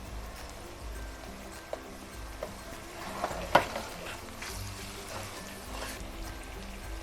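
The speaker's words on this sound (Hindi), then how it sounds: "सारे मसाले डालने के बाद थोड़ा सा भूनना है।" Ground spices (turmeric, dried coriander powder, coarsely crushed cumin) frying in a pan for an egg and poppy seed dish, a soft steady sizzle with faint stirring scrapes and a few small clicks, no talk.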